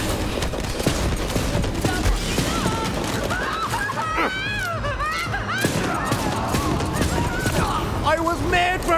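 Rapid gunfire and explosions from a Borderlands shootout keep up a loud, dense barrage, with sweeping synthetic weapon sounds and a voice shouting over the chaos.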